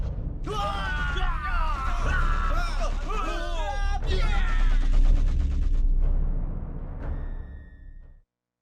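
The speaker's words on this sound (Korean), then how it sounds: "적들이 다리를 건너고 있는 아군에게 기관총을 쏘아대기 시작했습니다" Machine gun fire in a Korean War radio drama battle scene at a river bridge, dense loud bursts of rapid shots mixed with shouting voices, then fading out into silence.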